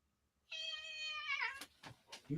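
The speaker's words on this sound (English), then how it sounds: "Did you hear her hissing at me?" House cat giving one long, loud, drawn-out meow up close, followed by a few short breathy bursts that could be hissing, with no talking.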